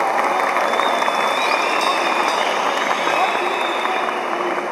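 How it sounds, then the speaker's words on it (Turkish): Audience at a concert in Bafra applauding continuously, a dense, steady wash of clapping that holds at full level throughout without a break. "Bir kocaman alkış da sizler için gelsin."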